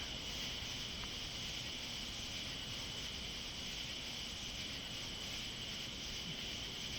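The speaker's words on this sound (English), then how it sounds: "The sound of the cicadas make the night feel like it's alive." A steady, faint high-pitched insect drone fills the night air, continuous and unbroken, with no voices.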